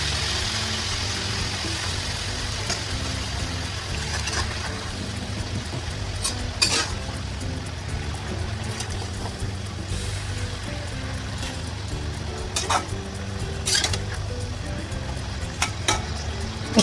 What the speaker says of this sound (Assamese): কম জুইত ভাজি ল'ম শাকখিনি